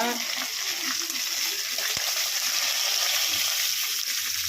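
Curry leaves fry in hot oil with a dense, hissing sizzle that holds steady and close throughout, with a single sharp knock partway through.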